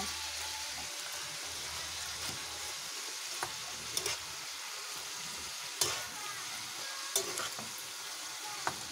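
Cabbage frying in a pan while being stirred, a steady hissing sizzle like light rain with occasional sharp utensil clicks, quiet and without talk.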